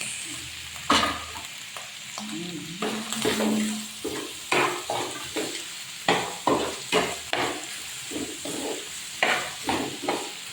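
Corned beef and potatoes frying in a pan, a soft sizzle under repeated rhythmic clacks of a spatula stirring and scraping, with a faint tonal squeak early on.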